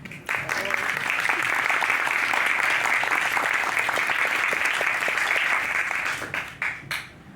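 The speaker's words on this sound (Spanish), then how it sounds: "un aplauso a Eloisa" Audience at a book presentation breaking into sustained applause, dense clapping rising quickly, holding steady for several seconds, then thinning into a few last claps.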